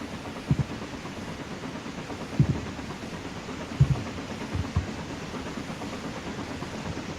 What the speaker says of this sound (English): Train number 3, pride of the Gilson NW. Eastern, at a leisurely 30 miles an hour.